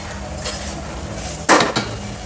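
A fried snack is lifted out of hot cooking oil with a metal utensil, giving two sharp clinks in quick succession over a steady low hiss of frying.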